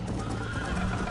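A horse neighs during a race in the video game Red Dead Redemption, a short, fairly loud whinny over dense, steady game noise with no pauses.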